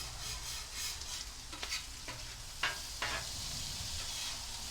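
Potatoes frying on a flat top griddle over low burners, a steady soft sizzle broken by several sharp scraping and tapping strokes of a spatula, no talking.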